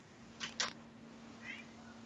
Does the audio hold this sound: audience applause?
no